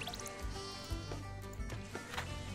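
Sheep bleats from the Ranch Rush farming video game, a few short bleats against soft game music and small squishy clicks, fairly close and clear.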